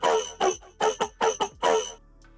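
A bass sound with no multiband dynamics compression plays about seven short, bright notes in a quick, uneven rhythm before dying away, fairly quiet and alone.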